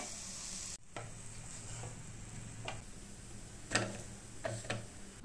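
Potato and raw banana cutlets frying in a pan, a faint steady sizzle with occasional light ticks and scrapes of stirring, close and quiet with no talk.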